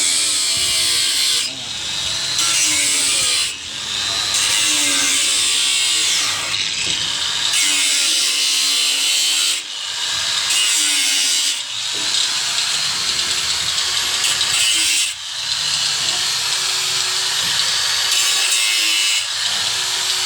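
Hand sawing through wood for a swiftlet house, loud close strokes in steady back-and-forth rhythm, broken by short pauses every few seconds.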